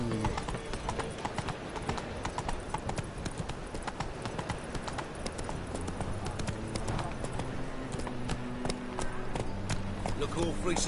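Roach, a horse in The Witcher 3, gallops with steady, close clip-clop hoofbeats throughout, under game music and ambient noise with occasional voices talking.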